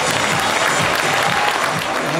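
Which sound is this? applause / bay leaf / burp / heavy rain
applause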